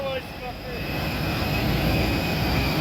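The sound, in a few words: airplane cabin noise on flight from Budapest to Glasgow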